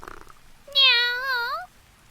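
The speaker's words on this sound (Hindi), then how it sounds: "बिल्ली धीरे धीरे घर के पास आई और अंदर घुसने की कोशिश की।" A single cat gives one clear, drawn-out meow lasting under a second, close and fairly loud, with a rising then falling pitch against near silence.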